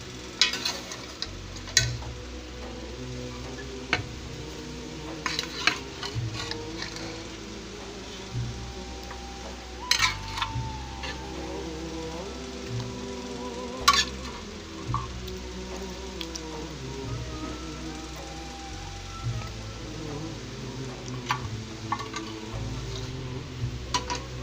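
Beef korma is stirred into a pot of biryani, with steady scraping, sizzling and occasional clinks of a spoon against metal, close and continuous with no talk.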